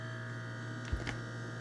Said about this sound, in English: The refrigerator's compressor just kicked in.